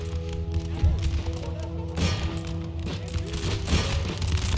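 Musket volley fire in Empire: Total War at the Battle of Hannover: ragged, overlapping gunshot bursts crackle repeatedly over a steady low battle rumble, with several heavier cracks standing out through the clip.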